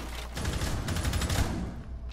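Heavy gunfire from Rainbow Six Siege, where a shotgun is involved, comes as a dense rapid burst of shots lasting about a second and a half before cutting off, loud and close with no talking.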